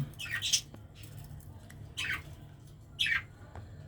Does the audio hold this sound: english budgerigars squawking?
yes